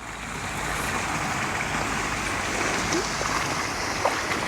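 Continuous splashing and trickling water from a garden pond water feature, a steady broadband wash without breaks, moderately close and fairly gentle.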